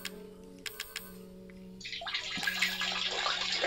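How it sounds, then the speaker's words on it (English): Water running from a tap starts about halfway through as a steady broadband rush, rising and staying continuous to the end after a few faint knocks and clicks beforehand. "Like, left the water on."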